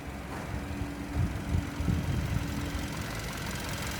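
A 2016 Hyundai Tucson's G4FJ 1.6 litre four-cylinder petrol engine idles steadily nearby, a low, even rumble with a faint knocking texture and no speech.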